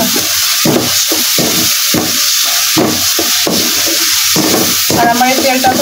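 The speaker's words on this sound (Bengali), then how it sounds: "কষাবো, কারণ মশলা যত কষায় তত ভালো লাগে" Spices sautéing in a mix of mustard and soybean oil, a loud steady sizzle with rhythmic scraping strokes of a stirring utensil repeating every second or so, close up.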